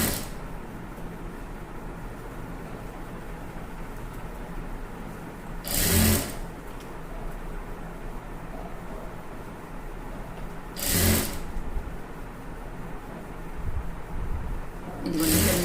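A sewing machine stitches an embroidery blouse neck, its motor whirring in a continuous close, steady run, broken twice by short louder bursts of handling, with no talk over it.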